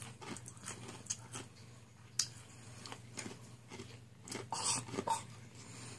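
Close, crisp crunching of pumpkin chips being chewed, irregular bites and crackles repeating over several seconds with no talking.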